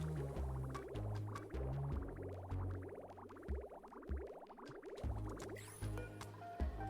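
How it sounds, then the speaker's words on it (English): Saltwater flows and drips inside the video game Oxygen Not Included, with a busy run of liquid gurgles and quick droplet plinks repeating steadily over a low synthetic hum, close and fairly loud, with no talking. "Alright, so the saltwater's coming out still."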